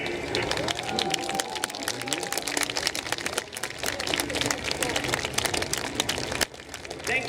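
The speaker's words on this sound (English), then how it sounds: "Thank you very much, ladies and gentlemen, for the applause." Spectators clap at an airshow with an F-18 and PC-7 team, a dense, crackling patter of applause held for several seconds alongside crowd noise and voices.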